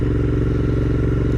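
A Royal Enfield 650cc twin, a Continental GT or Interceptor, runs with a steady, loud, throbbing exhaust note heard close up, with no voices.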